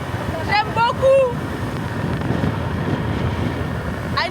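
Steady wind noise buffets the microphone throughout, with a few brief voice-like chirps early on and a constant low rumble underneath.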